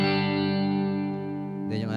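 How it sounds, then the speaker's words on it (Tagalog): Electric guitar through an M-VAVE Tank G multi-effects pedal on an almost clean, slightly breaking-up preset with reverb, a sustained ringing chord that decays and blooms into a reverb tail, close and loud. "Tapos meron siyang reverb."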